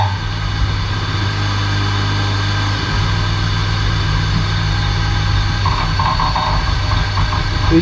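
A three-phase motor wired to single phase on a PWM speed controller drones loudly and continuously, its pitch wavering slightly as it slows and surges back up, with no voices.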